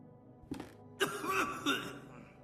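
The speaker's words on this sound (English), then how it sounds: "I'll have to wait until he coughs, huh?" An old man coughs in the point-and-click horror game The Last Door, a short hoarse hack followed by a longer, rasping fit of two or three harsh throaty bursts, close and fairly loud.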